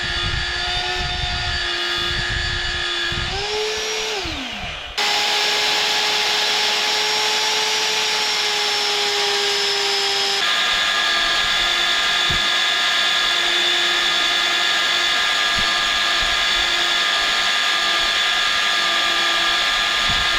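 A power drill grinds against an old, hard steel plow blade while building a skid steer snowplow, a loud, close, continuous whine that bogs and shifts pitch midway, then drones on steadily.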